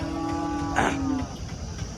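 Cows at a cattle market in Punganuru, with Jersey and HF breeds present: a single low moo lasting about a second rises over a steady murmur of market background, with no nearby speech.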